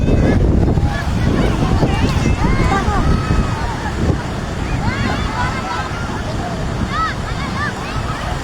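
Wind buffets the microphone on a seashore while waves surge and wash in a continuous loud roar, with people talking over it throughout.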